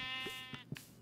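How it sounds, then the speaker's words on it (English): A white sheep in the Minecraft video game bleats, with a few short, nasal, wavering calls in quick succession, clear and close with no talking over them. "2 more white sheep"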